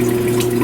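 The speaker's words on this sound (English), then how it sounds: "Right now it's starting to drain the water in the lines above me" Water rushes steadily from an opened faucet at the lowest point of a house as the supply lines above drain, a loud, close hiss with a low humming tone underneath.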